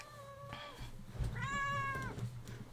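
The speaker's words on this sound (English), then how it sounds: "Now you want to start meowing?" A cat meows indoors, first a short call and then a longer, louder drawn-out meow, clear and close against a quiet background hum.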